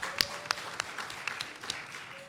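A round of applause from an audience for a panelist at a voting rights memorial event: scattered, sparse claps, fairly faint and thin rather than a full ovation.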